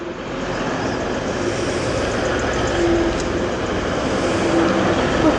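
Class 185 TransPennine Express diesel train approaching at Barnetby station, a loud steady rumble of engine and wheels building slightly as it draws near, with faint tonal hums over the roar.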